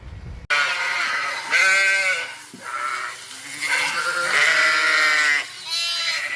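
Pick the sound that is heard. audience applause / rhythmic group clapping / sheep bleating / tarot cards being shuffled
sheep bleating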